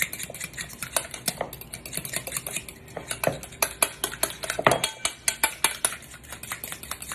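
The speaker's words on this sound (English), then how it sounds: "I'm going to grab a fork and just beat those together" A fork beating an egg with mayonnaise in a bowl for turkey burgers, rapid rhythmic clinks and taps against the bowl, close and clear, with no talking.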